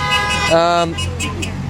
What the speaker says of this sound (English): can you show the street and people honking?